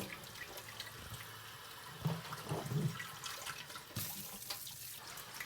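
Cold water is poured over siljo being cooled in a sieve, running and splashing steadily with a few louder gurgles partway through and no voices.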